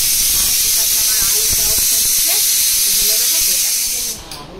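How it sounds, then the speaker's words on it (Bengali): A pressure cooker cooking mutton hisses loudly and continuously with steam for about four seconds, then the hiss drops off sharply at the end, with faint kitchen sounds underneath. "মাটনটা আর একটু সেদ্ধ হবে বলে আমি আলাদা প্রেশার কুকারে আরও"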